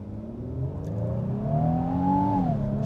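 A 2025 Infiniti QX80 Autograph V6 accelerates hard, its engine note climbing steadily and loud through the revs before a brief dip as it shifts, then pulling on at a strong, continuous drone.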